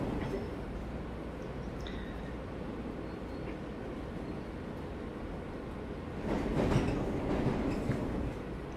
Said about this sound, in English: while the metro drives about to my destination